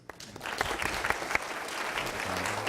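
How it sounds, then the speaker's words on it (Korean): An audience at a 2009 Korean unification vision camp breaks into applause. It rises quickly from a few early claps into a full, steady round of clapping. "다시 한번 큰 박수"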